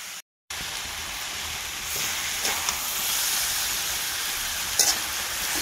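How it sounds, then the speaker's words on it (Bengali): Potatoes frying with onions in a pan give a steady broadband sizzle that swells slightly after a brief silent gap, with a few faint clicks of a utensil. "আলুটা ভাজতে লাগছে"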